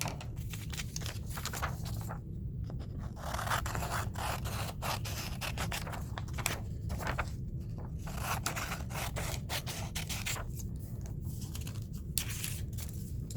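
Scissors cut across paper sheets in a quiet, close series of rapid snipping and crunching strokes, repeating steadily without talk.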